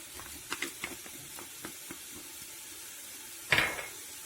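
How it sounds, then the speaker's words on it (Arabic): Fish and onion fry in a pan, a soft steady sizzle with a few faint clinks and stirring taps and one louder scrape near the end, heard alone without talk. "غادي غنشحرهم مزيان. فاش كيتشحر الحوت كنضيف له البصله"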